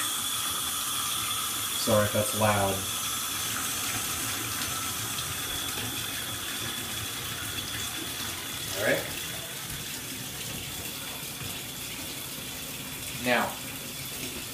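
Steady running cold water from a tap fills the background throughout, with a few brief bursts of speech breaking in over the flow, while filling a bath for a horn.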